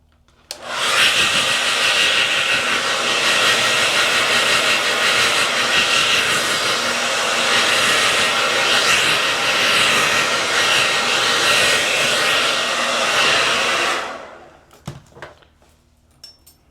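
A hair dryer blows a loud, steady whoosh close by while drying hair during a flip-over quick weave install. It runs continuously for about thirteen seconds, then cuts off, and a few faint clicks follow.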